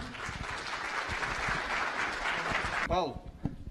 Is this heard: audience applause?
yes